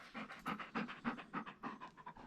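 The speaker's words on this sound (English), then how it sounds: "And now Shop Dog decided he needs attention." A shop dog pants rapidly and rhythmically close by, with about a dozen quick breaths over two seconds in a quiet room.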